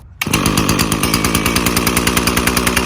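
Echo SRM-3020U brush cutter engine starting abruptly and then idling steadily, a loud, close, rapid two-stroke putter with a regular pulsing rhythm and no talk.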